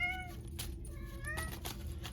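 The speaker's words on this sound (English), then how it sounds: "And my cat's coming in to say" A house cat meows indoors, giving several distinct meows in quick succession, close and clear with no speech over them.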